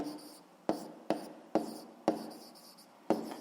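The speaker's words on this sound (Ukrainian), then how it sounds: "Отже, давайте запишемо" Handwritten notes go down on paper in quiet, close scratches, with about six sharp pen-tap onsets, each followed by a short scratching stroke, no voices.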